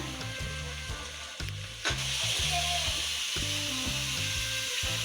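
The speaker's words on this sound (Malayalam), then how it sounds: "ഉള്ളി ഇവിടെ വഴറ്റിക്കൊണ്ടിരിക്കുവാണ് അപ്പം ഇന്ന് വേറെ രീതിയിലായതുകൊണ്ട് ഉള്ളി വഴറ്റിക്കൊണ്ടിരിക്കുമ്പോൾ തന്നെ ഞാൻ ഈ ഇനി ഇറച്ചി കഷ്ണങ്ങൾ ഇടാൻ പോവാണേ" Onions and chicken pieces sizzle steadily as they fry in a pan for a Kerala-style chicken curry, with a continuous close hiss and occasional stirring scrapes, no voices.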